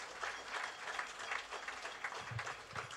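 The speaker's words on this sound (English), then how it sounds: "I want everybody to give all those volunteers a hearty round of applause." Audience applause for volunteers at a National Day of Prayer gathering, a sustained wash of many hands clapping, moderately distant and even throughout.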